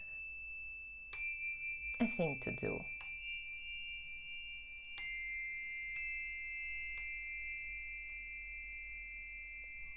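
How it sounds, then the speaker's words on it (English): A chime rings out with a long sustained tone, then a few more light struck notes follow sparsely over about ten seconds, with a short spoken phrase near the start. "I'm going to play just a few chimes for us"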